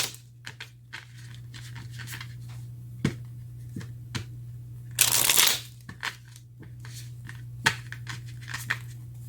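Soft riffling and scattered snaps of tarot cards being shuffled by hand, quiet and close, with one denser burst of card noise midway over a steady low hum.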